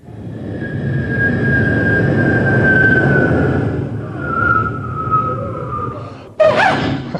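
A human voice mimics a jet, producing a sustained roaring whoosh with a high whine that holds for several seconds and then fades. A short, sharp burst follows at the end.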